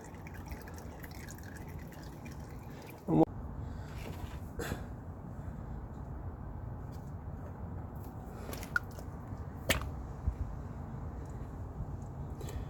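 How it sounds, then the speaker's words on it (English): Engine oil drips from a 2017 Nissan Sentra while draining, a few isolated drips at irregular intervals over a quiet, low background hum, each a brief soft plop. "as it is already dripping, we're just going to let it drain a little bit"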